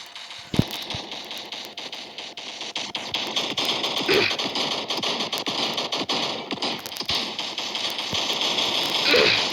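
Rapid machine gun fire in a zombie combat video game, with dense crackling bursts and sharp impacts over continuous game noise, growing louder toward the end.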